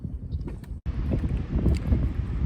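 Wind gusts across rough water during a kayak bass fishing tournament in New England. Steady, rumbling buffeting hits the microphone up close, with a brief dropout partway through.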